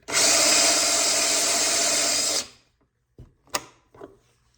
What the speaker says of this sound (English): I'm going to hit my drill a couple times.